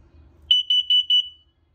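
An LP and CO detector in a 2024 Cruiser RV Avenir 29RK travel trailer gives four sharp, high-pitched test beeps in quick even succession, loud and close in an otherwise quiet interior.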